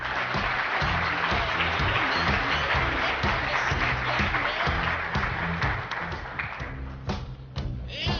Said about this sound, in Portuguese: uma salva de aplausos